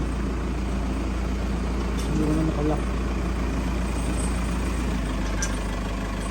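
A motorcycle engine idles with a steady low rumble close by, running continuously under brief talk from people nearby.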